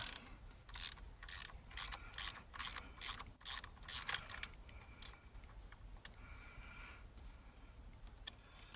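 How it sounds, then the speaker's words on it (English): Ratchet and socket breaking a bolt loose on a Jaguar V8 engine: a run of rapid, close clicking bursts in the first four seconds, then quieter scattered clicks over a low background. "So just break the socket free so my socket doesn't get stuck on it."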